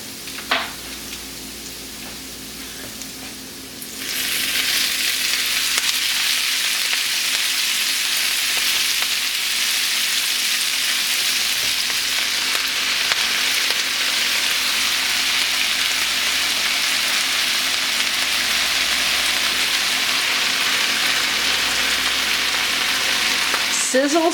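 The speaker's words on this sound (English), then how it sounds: "Sizzle, sizzle, sizzle." Pan full of leafy greens frying in butter and olive oil, a loud, even hiss and crackle that surges as the greens go in and then holds steady.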